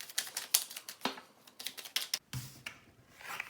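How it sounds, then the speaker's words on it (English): Tarot cards being shuffled by hand, giving rapid papery flicks and soft clicks in an uneven rhythm, close and fairly quiet with no talking. "And when I shuffle them and I allow the cards to pop out."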